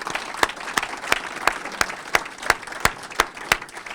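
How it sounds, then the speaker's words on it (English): A breakfast audience at the Carroll County Chamber of Commerce legislative event applauds for Bill. Steady, moderately sized clapping with a few sharper claps standing out at regular intervals, heard alone without talk. "So a big round of applause for Bill,"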